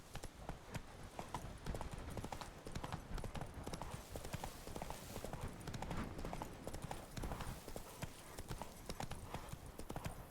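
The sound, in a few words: horse hooves while riding in Witcher 3 video game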